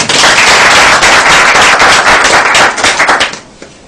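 Audience applause breaks out at a talk, a loud dense burst of clapping that holds steady for about three seconds, then fades quickly to near silence.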